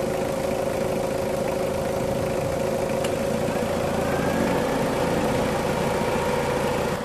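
Mitsubishi Adventure engine idling steadily with a rattle in it, a constant mid-pitched drone heard up close with no voices over it.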